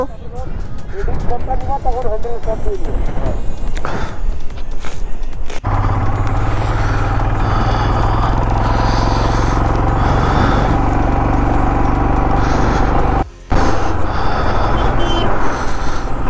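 Motorcycle riding on a high mountain road around 15,000 feet in North Sikkim, its steady engine and wind rumble loud and continuous for most of the stretch, briefly dropping near the end, with talking over the start.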